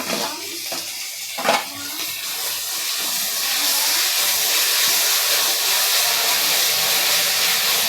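A steady, loud sizzling hiss of onion and tomato frying in a pan for vegetable kurma fills the clip, with a few faint clinks early on.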